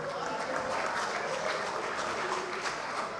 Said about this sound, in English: Hand over applause for Baba for that soaking